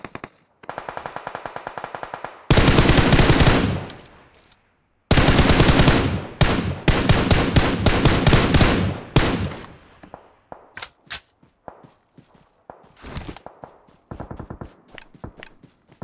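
Rapid machine-gun bursts in a video game match, loud and close, firing in long sustained strings with short gaps, then a few scattered shots and shorter bursts toward the end.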